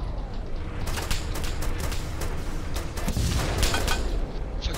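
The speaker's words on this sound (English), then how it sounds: "Stop shooting, stop shooting." Dense video game gunfire, a continuous rattling burst of shots and booms filling the whole stretch at close, loud level with no pauses.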